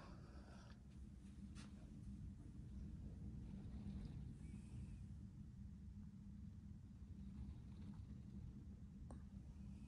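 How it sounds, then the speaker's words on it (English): Steady low rumbling wind noise buffeting outdoors, continuous and fairly loud throughout with no speech. "It's windy, you can hear the wind."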